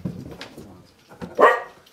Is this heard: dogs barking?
yes